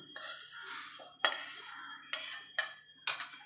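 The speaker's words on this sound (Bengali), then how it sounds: "আর দেখুন এবার আমি ডালটাকে ঢেলে নেব।" Roasted moong dal for a bottle gourd dal is poured and scraped out of a wok, giving a soft rustling pour punctuated by several sharp metallic scrapes and clinks of a spoon against the pan, close and fairly quiet, with no talking.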